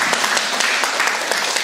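A church congregation breaking into applause during a sermon, a brief burst of dense, close clapping from many hands.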